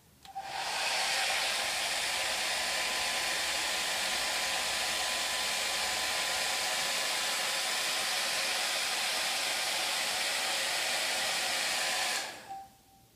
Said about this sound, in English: cook it with a hairdryer first.